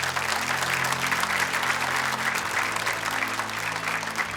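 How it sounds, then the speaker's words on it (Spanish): A church congregation applauds together, a steady, dense wash of clapping that fills the room at even loudness throughout, with no talk over it. "Démosle un aplauso al Señor."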